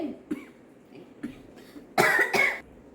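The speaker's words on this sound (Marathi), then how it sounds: "हांगासर न्ही जाल्लेलें आसा घरान सगळें खोकली सुरू जाला" Two short coughs, then a louder, harsher burst of coughing near the end, close by with quiet pauses between.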